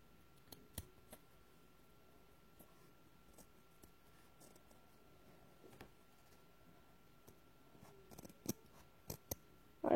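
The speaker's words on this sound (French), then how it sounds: "Je prends les ciseaux." Quiet, close snips and clicks of scissors cutting fabric come in irregular bursts, with a few louder crisp cuts toward the end against a soft background hum.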